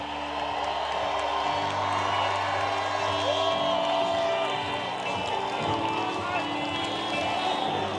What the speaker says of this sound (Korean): 대한민국의 공을 사랑을 다하는 야5당 대표님들께 격려와 응원, 큰 박수 부탁드리겠습니다